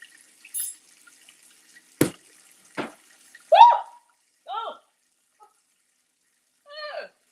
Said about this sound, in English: I'm going to rinse that off and eat it.